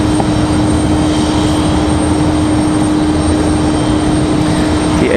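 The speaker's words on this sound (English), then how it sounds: "The A319 from Philadelphia." An Airbus A319 jet arriving from Philadelphia at Raleigh-Durham airport gives a loud, constant engine rush with a steady high whine running through it, heard alone.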